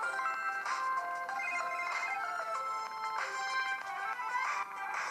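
A mobile phone ringtone plays steadily and clearly as a repeating electronic melody, ringing close by inside a home with no one talking over it.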